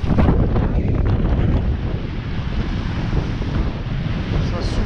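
Strong wind roars steadily across a sailboat under sail on the Gulf of Patras, Greece, a loud, continuous buffeting rush with water noise beneath it.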